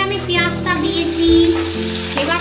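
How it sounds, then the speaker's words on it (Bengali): Dry red chilies and cumin seeds tempering in hot mustard oil, a steady loud crackling sizzle with sharper pops and spits throughout, close up with no talk. "এখানে সর্ষের তেল দিয়েছি দুটো শুকনো লঙ্কা দিয়ে দিচ্ছি ফোড়নে দেব জিরে"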